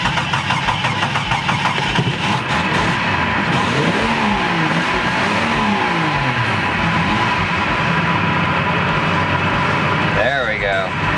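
A Jeep Cherokee engine runs close and loud after a restart, a rough, uneven idle that wavers in pitch with some revving surges. A person talks over the engine noise.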